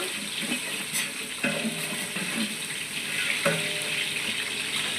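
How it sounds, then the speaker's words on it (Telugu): Five large onions fry in oil for a spicy chicken dum biryani, giving a steady close sizzle with intermittent scraping and stirring clicks and no voices. "ఉల్లిపాయలు అండి పెద్ద సైజు ఉల్లిపాయలు ఐదు బాగా వేగాలి"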